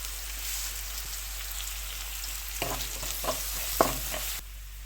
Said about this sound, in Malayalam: സവോള ഒന്ന് വഴന്ന് വരാനായിട്ട്.